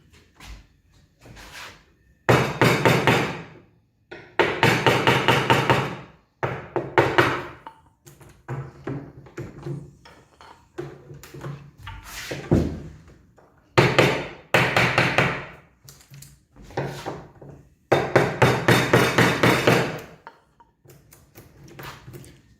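A mallet striking a chisel to hollow out wood while making a carpenter's marking gauge, repeated bursts of close, sharp knocks and scraping cuts with short pauses between, no talk.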